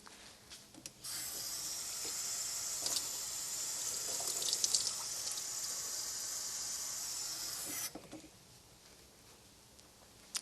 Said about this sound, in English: we're going to put some water over it to rinse it